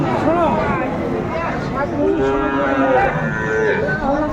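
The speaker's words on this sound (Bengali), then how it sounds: "শাহিওয়াল জাতের ষাঁড় বাচ্চা, একেবারে সুন্দর কালেকশন।" A Sahiwal bull calf moos at a busy cattle market, its calls rising over a constant crowd murmur and nearby voices talking.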